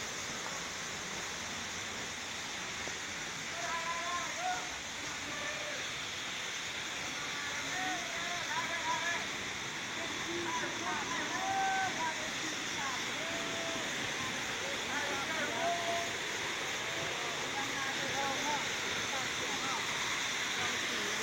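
Tham Suea Tok waterfall near Ban Dan Xi in Hat Xai Fong, a steady broad rush of falling water heard throughout, with faint voices mixed into the roar.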